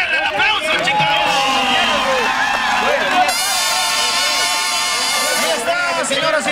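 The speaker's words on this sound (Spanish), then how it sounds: "regálenle el aplauso, chicos" A crowd cheers, whoops and claps after a live band performance at an outdoor plaza show, loud and continuous with babbling voices and a swell of applause partway through.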